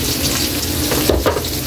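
Pork sautés in oil with garlic and onion, a dense, close sizzle and crackle with a brief stirring scrape midway, short and steady.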